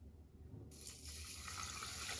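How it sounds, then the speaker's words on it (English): Cold filtered water pours onto loose peppermint leaves, starting abruptly as a steady, close gushing stream that grows slightly fuller as the vessel fills. "we're going to pour our cold filtered water on top."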